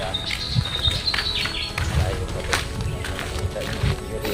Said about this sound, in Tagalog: Ano, may mga ibon pa na ano.